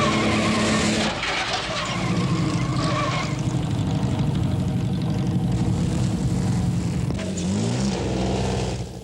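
Early racing cars on a twisting 1914 road circuit, heard as a loud, continuous engine roar passing close by, with a rising and falling drone and a squeal near the end.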